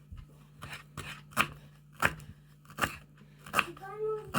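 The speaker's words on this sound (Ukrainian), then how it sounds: "Нарізаємо так тоненько." A knife slicing zucchini thinly on a cutting board for a fried zucchini and tomato dish, with sharp regular chops about every half second, close up under a speaking voice.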